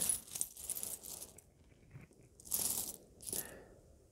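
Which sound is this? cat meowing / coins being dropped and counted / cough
coins being dropped and counted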